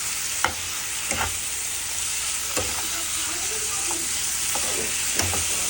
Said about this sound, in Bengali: এই যে আমি কেটে রাখা চিকেন কিউব করা চিকেনগুলো দিয়ে দিলাম সমস্তটা, দিয়ে এটাকে ভালো করে কষিয়ে নেবো